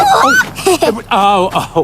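A lone chicken left behind after the others ran off gives loud, close, drawn-out squawks and clucks in several bursts, with voices mixed in.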